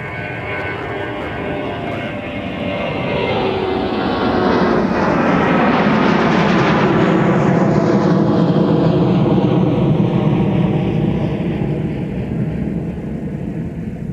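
An airliner bound for San Francisco takes off from runway 30 left at Minneapolis–St. Paul airport, its jet roar swelling loud and broad, peaking mid-clip, then easing as it climbs away.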